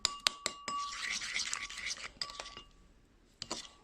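A spoon mixing parsley sauce in a bowl, quick repeated clinks and scraping strokes against the bowl, close and steady, then thinning out to a few final taps.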